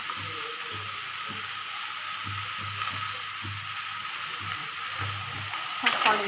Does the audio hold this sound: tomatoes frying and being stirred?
yes